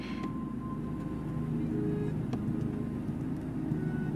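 A steady low airplane cabin engine drone in the video game Life is Strange, a constant muffled rumble holding at a moderate level throughout with faint incidental ticks and no talking.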